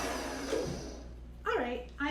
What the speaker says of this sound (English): Let me give it one more whir.